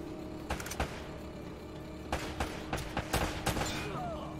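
A shootout in Uncharted: Drake's Fortune, with scattered gunshots popping in short clusters, some paired and some in quick runs, fairly close over a low ambient hum.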